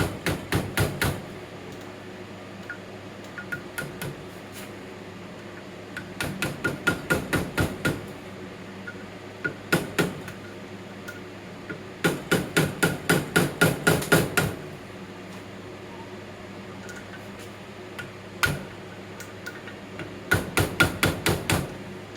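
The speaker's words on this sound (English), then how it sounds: "So, just use a screwdriver, I think. These aren't super tight in there." Metal tool tapping and rapping on parts of a Case 207D engine during a long block rebuild, with quick bursts of sharp, close knocks separated by short pauses and no talking.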